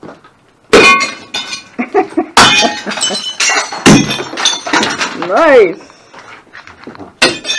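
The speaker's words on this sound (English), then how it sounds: "This is what the smashing looks like" Objects being smashed in a smash room: several loud crashes and breaking, clinking hits come in bursts over about eight seconds, mixed with excited voices and a brief exclamation.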